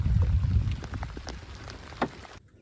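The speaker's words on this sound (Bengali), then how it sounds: "না আবার জোরে বৃষ্টি নেমে গেছে।" Heavy first rain of the season falls by a river during line fishing, a soft steady wash of patter with a few sharper drops, fairly faint and with no voices.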